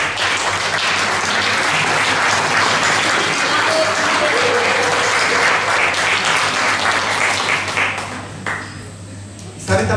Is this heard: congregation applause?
yes